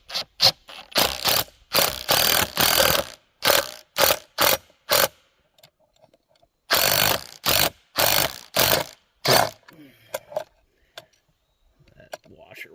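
A ratchet socket wrench clicks through bursts of rapid strokes as it turns a bolt on a deer feeder, the close, sharp ratcheting pausing between sets with a brief quiet gap.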